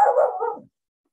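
A dog gives one short, close bark or yelp of under a second, which drops in pitch as it trails off, and then silence follows.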